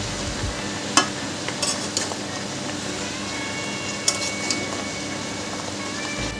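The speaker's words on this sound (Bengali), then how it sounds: "এবার সবগুলোকে একসাথে ভালো করে মিশিয়ে কষাতে থাকবো।" Spice mix of turmeric, cumin and coriander powder being stirred and fried in a pan for a catla fish head and bottle gourd curry, a steady low sizzle with a few sharp utensil scrapes and clinks.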